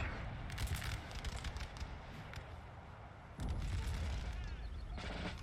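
Rolling musket volleys and booming artillery from a Napoleonic battle in Napoleon: Total War, a dense crackle of massed gunfire that swells again near the end, loud and continuous.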